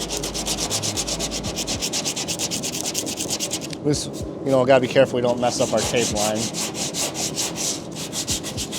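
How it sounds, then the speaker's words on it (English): Rhythmic back-and-forth scraping of 80-grit sandpaper by hand on a car body panel of a widebody WRX, steady strokes close by, with a person speaking briefly partway through. "So let's keep sanding here."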